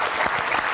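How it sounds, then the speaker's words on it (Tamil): Applause from a studio audience at a Tamil television talk show, a dense wash of many hands clapping steadily, close and loud throughout the short burst with no voices on top. "முதல்ல அதுக்கே ஒரு பெரிய கைத்தட்டல்கள் பார்க்க"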